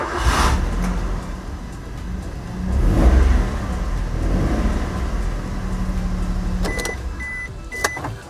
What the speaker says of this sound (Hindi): फिर मैं ऑफ करके फिर स्टार्ट कर रहा हूँ।